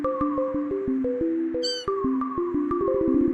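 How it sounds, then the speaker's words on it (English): Cats meow in a rapid, rhythmic series as they die in the video game Deltarune, the short tonal cries landing on the beat of a background song with a brief high chime midway. "Even the cats dying is kind of to the beat as well."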